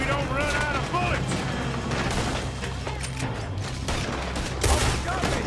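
Heavy gunfire in a shootout from Red Dead Redemption 2: a rapid, overlapping fusillade of rifle and pistol shots with close and distant cracks, mixed with shouting voices throughout.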